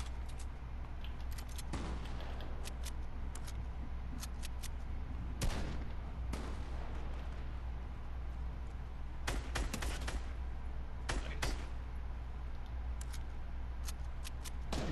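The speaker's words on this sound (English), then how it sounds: "Nice. I shot one of them." Gunfire in the Fortnite video game comes as scattered sharp shots, single cracks and short quick bursts spread across the stretch over a low steady hum, with no talking.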